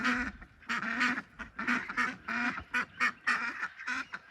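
Ancona ducks, adult homestead birds, quack in a close, busy series of rapid nasal calls, several overlapping in bursts throughout.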